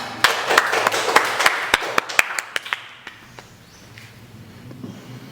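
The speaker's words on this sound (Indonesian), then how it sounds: "beri aplaus untuk kalian semua" A small classroom group gives applause, a sparse ragged run of nearby hand claps that is loudest at first and then thins out and fades after a few seconds.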